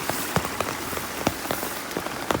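Heavy night rain drums on a hard surface close by during fishing, with sharp irregular drops splattering over a constant hiss.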